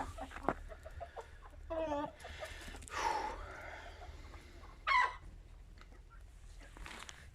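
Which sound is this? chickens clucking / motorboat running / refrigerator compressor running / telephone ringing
chickens clucking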